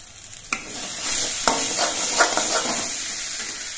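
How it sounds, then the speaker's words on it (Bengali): Spices sizzling and frying in oil in a pan for a village-style pumpkin curry, a steady hiss with a couple of sharp stirring scrapes, close and loud, no talking. "মশলাগুলো আমি বেশ কিছুক্ষণ কষিয়ে নিয়েছি। মশলা থেকে দেখুন তেল ছেড়ে দিয়েছে।"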